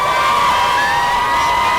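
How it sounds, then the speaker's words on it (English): South Milwaukee Rockets fans cheering at a high school football game against Cudahy, a loud, continuous roar of crowd voices with shrill higher shouts layered on top. "Lots to cheer about for South Milwaukee Rocket fans tonight"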